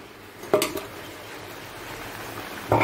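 Two brief metallic clanks of pots and utensils during dishwashing in a home kitchen, one near the start and one near the end, with a quiet low hiss in between.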